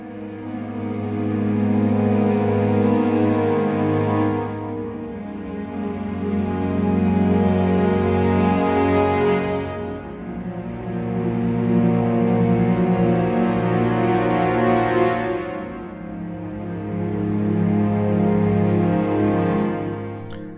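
Sustained bowed chamber strings from a sample library swell and fade in slow waves, layered chords forming a lush, smooth texture with no voices.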